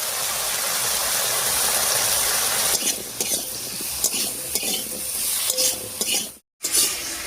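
Cubed potatoes with green chilli, salt and turmeric sizzle loudly in a hot pan, then a spoon stirs them with scraping, clattering strokes over the ongoing fry; a brief gap of silence near the end.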